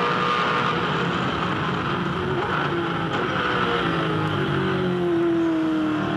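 V8 Supercars race cars from the 2007 championship at the Tasmania Challenge, engines roaring continuously and loudly with a rising pitch as one accelerates out of a corner.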